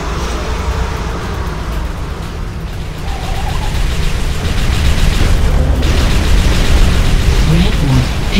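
Red orb destroyed in Unreal Tournament 3 Warfare, erupting in a loud, continuous explosive roar that swells and holds for several seconds amid dense game battle noise, with voices in the mix.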